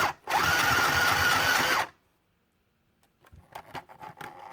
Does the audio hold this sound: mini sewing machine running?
yes